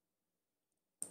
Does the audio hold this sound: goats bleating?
no